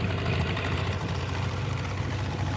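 A boat's outboard engine drones steadily as the boat heads upstream on a shallow, sandy river, a continuous close hum with a faint rise in revs.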